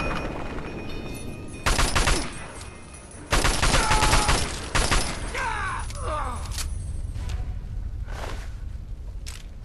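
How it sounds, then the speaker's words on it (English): Shotgun fire rings out during a combat scene in the video game Fallout 3, a few loud, booming bursts among steady noise from the game and a player's voice. "Another guy with a shotgun."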